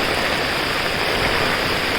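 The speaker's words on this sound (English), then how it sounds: "So see the water going through this drain." Floodwater rushes through a street drain during heavy monsoon rain in Mumbai, a loud, dense, unbroken roar of flowing and splashing water.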